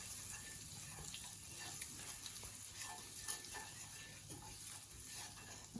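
Garlic, oregano and pepper toast in a hot pan, giving a steady soft sizzle throughout with faint stirring scrapes and no talking.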